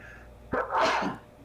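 A single sneeze bursts out in a tabletop roleplaying game session, a sharp onset followed by a broad noisy exhale, with faint room tone before and after.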